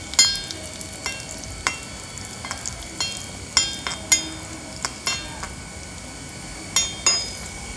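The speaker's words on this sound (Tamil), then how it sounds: "பாயசத்துக்கு நெய் விடுறேன்." Ghee poured into a pan of payasam for a Ram Navami prasad recipe, with a soft steady sizzle under repeated sharp metallic clinks of a spoon stirring against the pan, close and fairly quiet.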